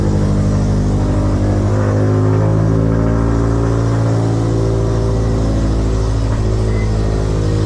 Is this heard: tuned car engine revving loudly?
yes